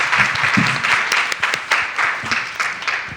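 An audience applauds three panelists at the close of a sickle cell mental health discussion, a steady wash of clapping with a few louder nearby claps and brief murmurs underneath.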